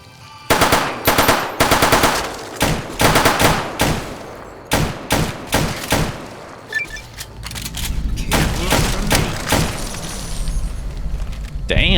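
Rapid bursts of automatic gunfire in a Fallout: New Vegas game, loud volleys with short pauses, followed by continued shooting over a low rumbling background.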